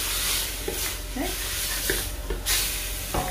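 Chickpeas are stirred in a hot pot, sizzling and hissing steadily at close range, with a few soft scrapes and knocks from the spoon.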